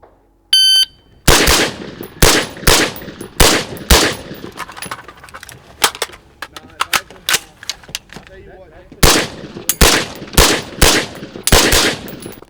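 Rifle gunshots at a night vision shooting drill, sharp loud cracks fired in quick irregular strings with a short lull midway, preceded by a brief electronic beep.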